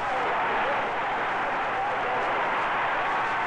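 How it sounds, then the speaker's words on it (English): A dense, steady roar of crowd cheering and clapping fills the scene from a 1972 animated cartoon about a possum, sustained and loud with no pauses. "They cheered and cheered the people who had made the possum smile."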